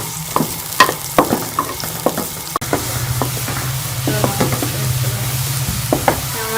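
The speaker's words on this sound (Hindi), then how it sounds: "यहाँ पे हम इसमें हम प्याज शामिल कर लेंगे। और इसको लाइट गोल्डन कर लेंगे।" Onions fry in a pan while being stirred, a steady sizzle broken by repeated scraping and clinking of a utensil, with one sharp knock midway.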